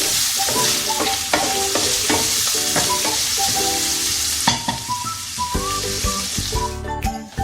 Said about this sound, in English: I just need to fry this for about like a minute before I'm adding my carrots